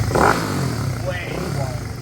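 Pit bike engine fitted with a quiet core exhaust insert, revving briefly then settling into a muffled, subdued running note close by.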